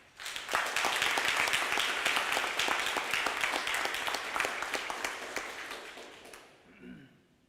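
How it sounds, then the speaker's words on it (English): Sustained applause from a crowd at a middle school academic awards ceremony, dense and steady clapping that gradually thins and fades out near the end. "Please join us in giving the team a round of applause."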